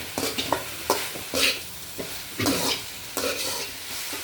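A spatula scrapes and stirs through cooked spinach in a sizzling pan, several quick strokes in an uneven rhythm, close and without speech.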